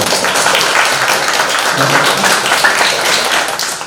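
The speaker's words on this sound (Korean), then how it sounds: "박수 부탁드립니다." Loud, sustained applause from a lecture audience, dense clapping that fills the whole stretch without pause.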